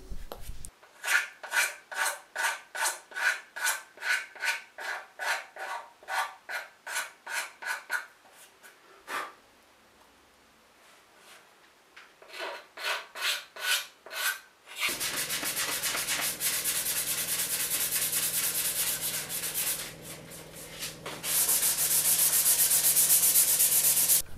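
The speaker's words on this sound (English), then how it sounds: "Just going around with the blade, scraping it all clean." A blade scraping along the binding of an ES 335 guitar body during finishing, with steady rhythmic rasping strokes close up, followed by a denser, continuous rough scraping.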